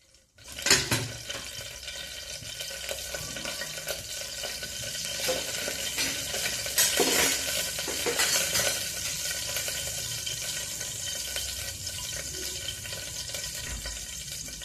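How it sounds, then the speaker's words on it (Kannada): About two spoons of oil sizzle steadily in a pan while tempering for pudina (mint) rice. A sharp burst opens it, then a loud, sustained frying hiss continues with stirring. "ಈಗ ಒಗ್ಗರಣೆ ಮಾಡೋಣ."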